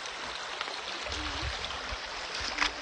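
A river stream flows with a continuous, fairly soft rush of water, steady throughout and without voices.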